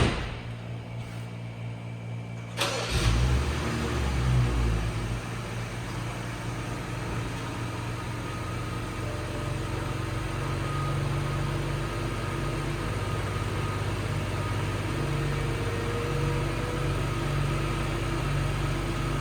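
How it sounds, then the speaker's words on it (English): Folding soft top of a 2015 BMW 640i M-Sport xDrive convertible operating with a steady low motorised hum and whir for most of the stretch, after a quiet start and a brief clunk near the beginning. "I want to demonstrate the soft top here."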